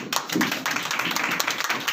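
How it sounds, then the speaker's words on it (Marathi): A church congregation claps to welcome the pastor, a dense, steady patter of many hands continuing throughout with no talking. "आपल्या रेव्हरन्स पास्टर लीडरचं आपण टाळ्या वाजवून स्वागत करूया"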